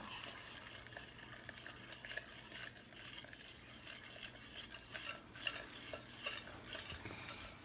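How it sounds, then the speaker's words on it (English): A whisk stirs a flour mixture and a butter mixture together in a bowl, giving quiet, continuous scraping and clinking strokes in an irregular rhythm, close and soft with no talking. "Mix together your flour mixture and your butter mixture with a whisk."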